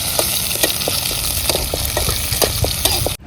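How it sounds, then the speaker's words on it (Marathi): Bombay snacks frying in a pan of hot oil, a steady close sizzle with faint stirring clicks throughout, stopping abruptly at the end. "मस्तपैकी बॉबे तळायचं चाललंय बघा"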